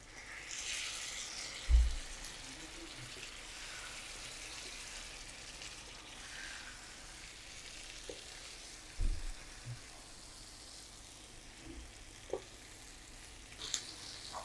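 Boneless chicken breast pieces sizzle and fry in a pan of browned spice paste, a steady low hiss with occasional soft stirring knocks and clatters, fairly close and without talk.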